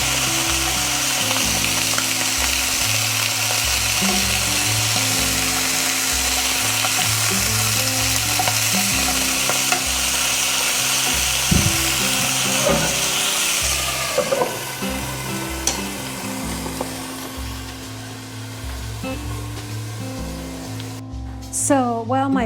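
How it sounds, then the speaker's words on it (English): Sausage sizzling in a frying pan, a loud, steady crackling fry with stirring, easing a little partway through as a voice talks over it and a short burst of running water comes near the end. "So while my sausage is cooking"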